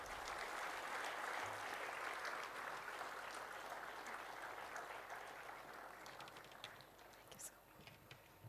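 A large audience at a university orientation ceremony in Bengaluru claps in a sustained round of applause, dense and steady, then gradually thinning toward the end with a few scattered claps.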